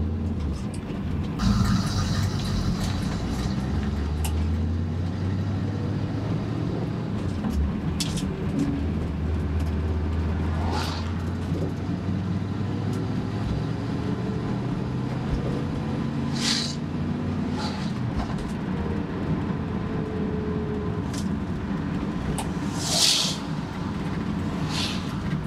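A 1967 Chevrolet Camaro Sport Coupe with a 327 engine and clutch drives along, its engine droning steadily and shifting in pitch as it accelerates, loud and close with road noise throughout.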